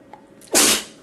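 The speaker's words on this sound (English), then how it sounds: "Hold on, I'm about to sneeze." A person gives one loud, close sneeze: a faint intake of breath, then a sudden explosive burst that fades within half a second.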